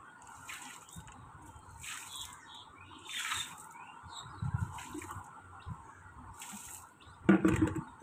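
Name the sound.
water being poured at the main gate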